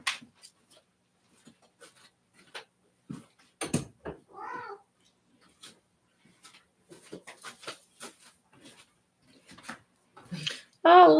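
A cat meows a few times indoors, with short separate calls and a louder, drawn-out meow at the end, among soft clicks and scattered household noises.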